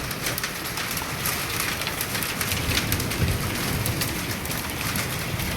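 Hail and heavy rain pelt down outdoors in a dense, steady patter of hard drops striking surfaces, continuous and fairly close, with no voices.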